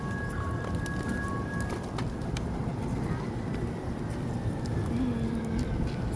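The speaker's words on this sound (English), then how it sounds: "So many birds." Pigeons coo amid a crowd of birds being fed by a family outdoors, soft low calls over a steady background of ambient noise, with people talking nearby.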